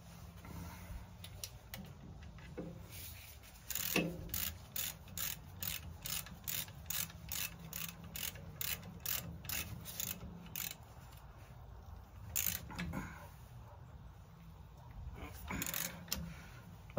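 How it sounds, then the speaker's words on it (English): A ratchet wrench tightens a bolt while the deck is removed from a 2003 Cub Cadet LT2180 mower, giving a long run of quick, even ratchet clicks in bursts, close and fairly quiet, with brief pauses between strokes. "Holding that bolt in place and then tightening."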